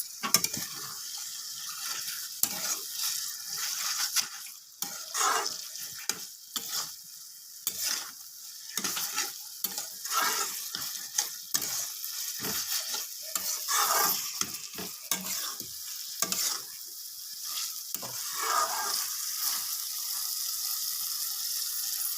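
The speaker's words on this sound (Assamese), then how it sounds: "মাংসখিনি দি মই ভালকৈ লৰাই দিম।" Meat frying in a pan for Assamese koldil curry being stirred, a continuous close sizzle with repeated scraping stirs throughout.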